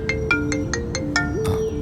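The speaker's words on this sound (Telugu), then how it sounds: "వదిన ఫోన్ చేస్తుంది." A mobile phone rings with an incoming call, playing a quick melodic ringtone of short repeated beeping notes close by over a low background hum.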